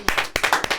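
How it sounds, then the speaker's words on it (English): Several people clap in a small room, a quick uneven round of close, sharp hand claps lasting under a second. "Round of applause for that one."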